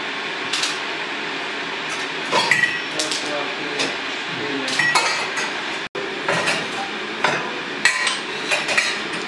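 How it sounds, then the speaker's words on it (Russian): Metal spoon tapping against dishes in a home kitchen, a series of sharp clinks and knocks at an irregular rhythm, fairly close, with light background household noise. "Ложечкой стучать можно."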